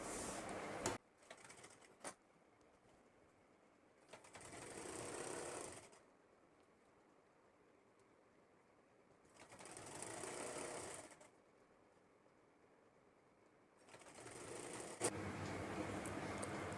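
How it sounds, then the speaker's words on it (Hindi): A sewing machine stitches through fabric over elastic while a plazo is being sewn, running in three steady bursts separated by quieter pauses with handling noise, close and fairly loud, with no talking. "अब इस जगह से दोस्तों हम सिलाई शुरू करेंगे"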